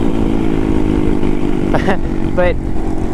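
A big-bore Grom or Monkey motorcycle engine revving hard just short of full throttle, a loud, close, steady buzzing drone with a couple of brief pitch swoops as it rides, while a voice speaks briefly.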